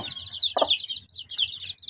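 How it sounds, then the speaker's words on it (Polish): Chickens and young roosters of a small flock cluck and chirp close by, a busy overlapping stream of high calls with one louder, lower cluck near the middle, no speech. "Te dwa duże czarne koguciki."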